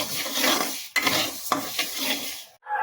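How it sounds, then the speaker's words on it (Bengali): Mung dal stirred and frying in a wok on a gas stove, a loud continuous sizzle broken by a few sharp scrapes of the utensil against the pan, ending in a brief pause. "কড়াইতে ডাল ভাজতেও দিয়ে দিয়েছি"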